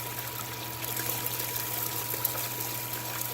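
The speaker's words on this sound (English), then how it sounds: "So I'm just going to start pouring a little bit in it, and we'll see how she goes" Material is poured into a running Mini 6 switchback concentrator, giving a continuous trickling, streaming water sound over a steady low mechanical hum, at moderate level without pause.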